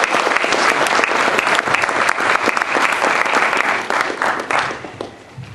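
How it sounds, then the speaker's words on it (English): Sustained, loud applause from an audience at an event on outcomes for Black males in urban institutions, dense clapping filling the room for several seconds before easing slightly near the end. "let's give him a rousing round of applause"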